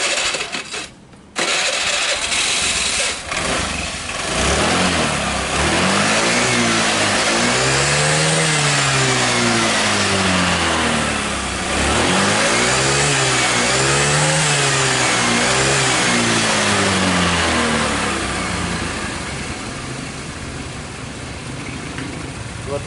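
An old Honda Vario scooter, just serviced at the carburetor and vacuum, starts up and then revs loudly in repeated rising and falling surges during a test ride, its engine close and dominant throughout.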